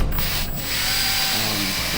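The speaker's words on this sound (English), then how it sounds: "Drill brush, put in a drill, and it actually works pretty darn good." Power drill spinning a drill brush against foam on a Jeep Cherokee headliner, a close, loud buzzing whir with brief scrubbing interruptions over two seconds.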